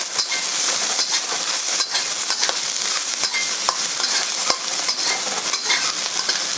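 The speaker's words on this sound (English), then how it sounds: "You want to give a good sear right there." Chinese sausage sears in a hot pan with ginger and garlic, giving a steady, loud, close sizzle broken by frequent stirring scrapes and clicks, with no talking.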